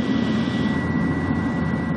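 Steady, loud drone of a BFAR maritime patrol airplane's engine in flight over the West Philippine Sea near Panatag Shoal, a continuous low roar heard from inside the cabin with no voices.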